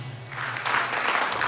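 A small team claps for a winning candidate as municipal election results are announced in Villepreux, a short burst of applause swelling after a low hum, fairly close.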